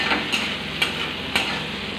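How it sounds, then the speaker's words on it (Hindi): Chopped onions frying lightly in oil in a pan, a soft steady sizzle broken by three brief stirring scrapes at regular intervals, close and unaccompanied. "अब हम इसमें कटे हुए प्याज डाल रहे हैं हल्का तलारने के लिए"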